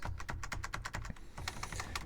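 Computer keyboard keys pressed in a quick irregular burst of soft clicky taps, close and fairly quiet, as shortcut keys are hit with no speech.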